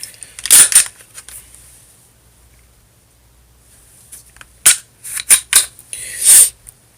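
A Glock G40 MOS 10mm pistol is cleared, giving sharp metallic clicks and clacks of the magazine and slide racking, a few close loud bursts separated by a quiet stretch.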